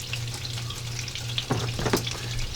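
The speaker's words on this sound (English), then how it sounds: "And we are going to saute these." Mushrooms sautéing in a pan for Polish mushroom cutlets, a close steady sizzle with a brief burst of stirring and scraping near the end, alone and without talk.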